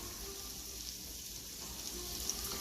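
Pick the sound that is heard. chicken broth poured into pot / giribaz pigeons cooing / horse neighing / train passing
chicken broth poured into pot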